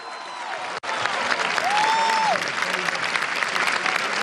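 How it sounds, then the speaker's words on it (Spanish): A rally crowd at a mass march for universities breaks into strong, sustained applause, dense clapping that holds steady throughout with a brief whistle-like tone partway through. "Un fuerte aplauso."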